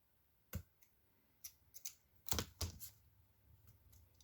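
Scissors trim the protruding pieces of die-cut paper card on a Halloween card, giving a few sparse, crisp, close snips over near silence.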